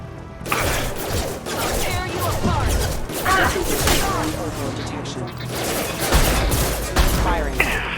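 Heavy gunfire in a Mass Effect 2 battle, rapid overlapping shots and impacts with mechanical clatter, loud and sustained across the whole stretch, with voices speaking underneath.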